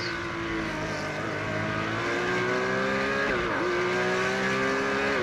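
Porsche race cars lapping Mount Panorama in a racing video game: a loud, continuous engine howl that rises and falls with gear changes, dipping sharply midway before climbing again, with faint tire squeal mixed in.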